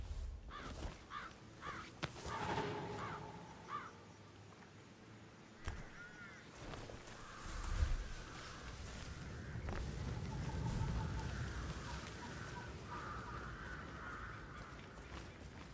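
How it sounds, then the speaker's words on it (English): Crows cawing in the Hitman video game, a series of short repeated caws in the opening seconds, then scattered distant calls over a steady low ambient rumble. "Birds nesting."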